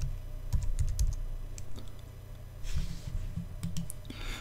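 Typing on a computer keyboard while entering details during a WordPress install, with two bursts of quick clicking keystrokes separated by a quieter pause, close and clear.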